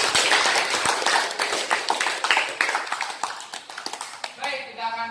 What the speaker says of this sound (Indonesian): kita mulai inti debat pada tepuk tangan untuk kita semua